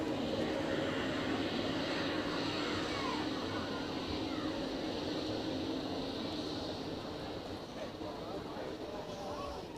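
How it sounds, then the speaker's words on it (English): An Airbus A220-100 taxis at Zurich Airport with a steady, continuous engine roar and whine that holds evenly for about ten seconds. "A220 taxiing out of the alleyway to London Heathrow."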